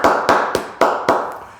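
A church congregation claps at a dawn prayer service, a few sharp, loud claps in a slow, uneven rhythm, about five strong strokes, each ringing briefly before the next.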